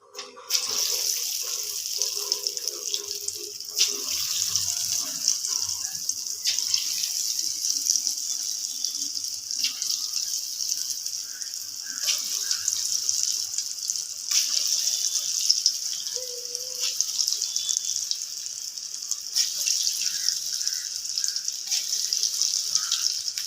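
Small moong dal bondas sizzle in hot oil, a continuous bright, hissing fry that stays steady and fairly close throughout, with faint small pops and no voices.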